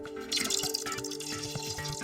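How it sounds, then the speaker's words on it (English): Molten iron poured into water sizzles and drips, a busy crackling splash with spattering bursts, moderately close and steady over the whole stretch. "As the iron hits the water, the contraction of the metal should apparently be forming diamonds."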